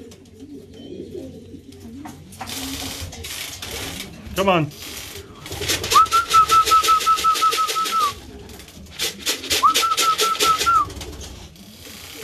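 Racing pigeons arriving at their loft after a 100-mile practice race coo and flutter close by while a person speaks briefly, with mechanical clicking and whirring bursts in the background.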